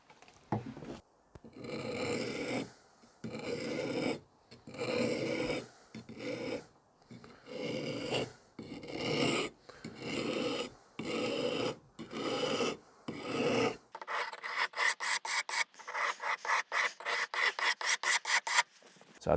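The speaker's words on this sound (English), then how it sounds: "So we'll sharpen the curved blades in the same way" A sharpening stone rasps along the curved blades of hedge shears in slow, separate close strokes, then shifts to a faster run of short, brisk strokes near the end.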